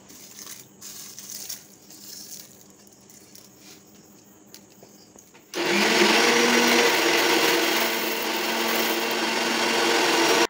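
An electric grinder powders dried red chillies that were roasted on a gas stove, starting abruptly partway through with a loud, steady whirring roar that holds to the end after a quieter stretch of background sounds.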